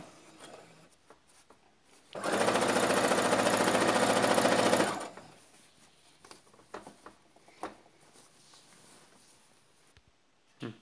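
A sewing machine runs a straight seam on a salwar in one steady, loud burst of about three seconds, with quiet handling rustles and taps of the fabric before and after.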